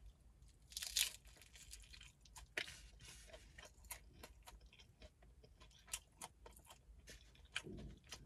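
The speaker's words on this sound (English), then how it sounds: "My taco shell breaking up on me" A crisp taco shell crunches in repeated sharp bites and chewing, close up and fairly quiet, with irregular crackles and crumbling between bites and no speech.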